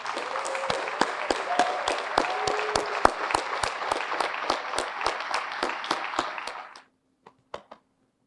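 A banquet audience at a firefighters' awards event applauds nominees and recipients, sustained full-room clapping with rhythmic accented claps throughout, loud and close, then abruptly dying away to a few last scattered claps.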